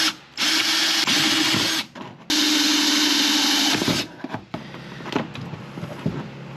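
A power drill bores two holes into a Recon 120 kayak to run a Garmin power cord and transducer, loud whining bursts of about one and a half seconds each, stopping and restarting, followed by quieter rattling handling noise.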